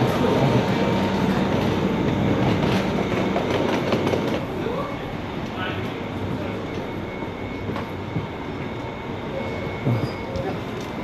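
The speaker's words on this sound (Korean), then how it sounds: "방금 지하철을 탔는데" A subway train in Fukuoka runs with a loud, steady rumble and rolling wheel clatter heard from inside the car, the roar continuing for the whole stretch.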